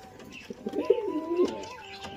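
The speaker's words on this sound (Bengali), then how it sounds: "আমার কাছে আছে দুখানা লক্কা পায়রা, এই যে।" A fantail pigeon coos nearby, a soft rolling throaty call lasting about a second with a faint chirp around it.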